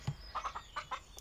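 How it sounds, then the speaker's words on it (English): Cartoon chickens cluck in an iPad children's game, giving a quick run of five or six short, bright clucks after a soft thump, close and clear with no talking. "Oh, the chickens are laying eggs."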